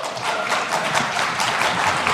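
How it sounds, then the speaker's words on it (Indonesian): Applause from an audience of housing developers at an Indonesian ministerial discussion, a dense steady wash of clapping filling the short moment at moderate loudness with no talk over it. "Coba tepuk tangan yang keras dulu."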